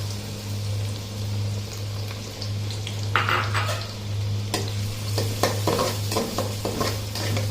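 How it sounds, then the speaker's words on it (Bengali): Sliced onions sizzling in ghee as they brown for chicken korma, a continuous frying hiss with a low steady hum beneath and repeated clinks and scrapes of a spatula stirring the pan. "পেঁয়াজ বেরেস্তা করতে যতক্ষণ লাগে আমি লাল করে সুন্দর করে ভেজে নিই।"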